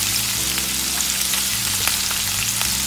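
Salmon fries in a pan as red sauce is added, giving a loud, steady, close sizzle with crackles and faint stirring and no voices.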